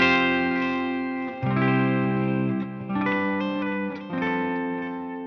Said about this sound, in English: And then I could kick in my delay.